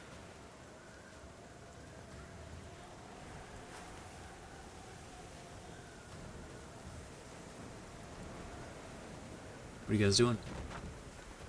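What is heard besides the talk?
storm raging outside, sound effect in tabletop game session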